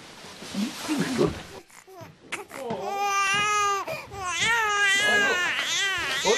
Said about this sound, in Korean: 어서 애 우는 소리가 들려